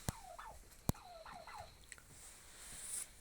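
Domestic turkeys gobbling at a small farm that also keeps ducks and chickens, with a few short descending gobble calls near the mic, two sharp clicks and a light rustle in the background.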